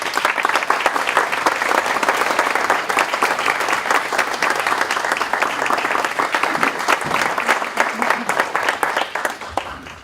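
A congregation at a seminary spring spiritual retreat claps steadily to welcome a preacher, sustained dense applause from a large crowd that stays loud throughout and eases slightly at the very end.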